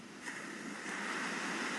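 Ocean waves wash onto a shore in a steady broadband rush that swells slightly partway through, with no voices over the surf.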